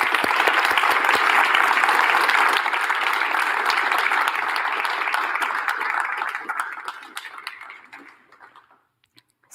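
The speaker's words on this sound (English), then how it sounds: "Please join me in giving City of Good a round of applause." An audience at a city's State of the City address in Boise claps loudly for several seconds, the applause thinning and fading out toward the end.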